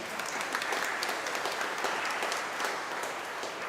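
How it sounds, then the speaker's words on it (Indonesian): A church congregation at an Epiphany Mass claps for the frater, dense continuous applause filling the room at an even level throughout. "Kita beri tepuk tangan untuk frater."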